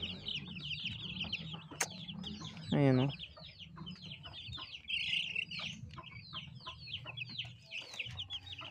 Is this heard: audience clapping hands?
no